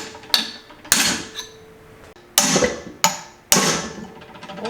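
Metal hammer strikes on a punch driving a part out of a Ford 8-inch differential from a 1971 Maverick: five sharp, loud, ringing blows at irregular spacing, with short metallic decays between them.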